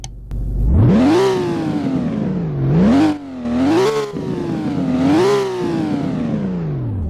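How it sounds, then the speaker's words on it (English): Porsche 911 GT3 RS in the Roblox game, engine revving hard several times: a rising whine climbs and falls back in repeated loud sweeps, close and alone, with no talk. "Why don't we do a rev test though?"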